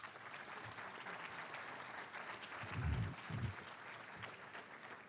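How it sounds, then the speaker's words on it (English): Faint applause from a crowd at a graduation ceremony, a soft continuous patter of many hands, with a few low thumps partway through. "Let's applaud the ISE graduates one more time."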